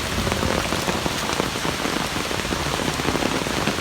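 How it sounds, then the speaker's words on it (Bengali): Heavy early-morning rain drums on an open umbrella at a cattle market, a dense, loud, unbroken patter of drops close overhead with no talking. "এরকম বৃষ্টি যে"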